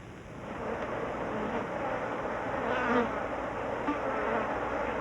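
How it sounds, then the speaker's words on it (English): Mosquitoes swarming over a high-altitude lake in Ladakh in summer, a dense continuous insect drone with faint surf-like wash beneath, steady and close throughout. "Summer is the season when mosquitoes breed."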